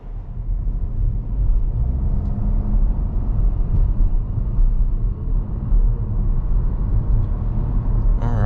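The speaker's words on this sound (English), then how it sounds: "setting off in the Trailblazer" 2024 Chevy Trailblazer RS with its 1.3 liter turbocharged three-cylinder pulling away, a steady low engine drone and road rumble heard from inside the cabin, continuous and fairly loud throughout.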